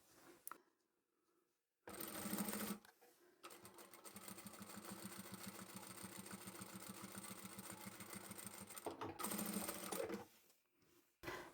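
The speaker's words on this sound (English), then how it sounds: "I might as well top stitch at the same time that I'm putting the next layer on." A sewing machine top-stitches through layers of fabric on a scrappy quilted pouch, running in a steady fast whirring stretch of about eight seconds after a short burst, close and clear with no talking.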